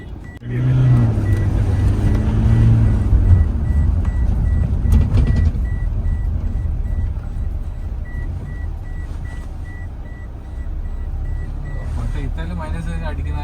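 A Toyota Innova Crysta fitted with aftermarket paddle shifters drives along, its steady engine and road noise holding loud and continuous throughout, with a brief rise near the end; no one speaks.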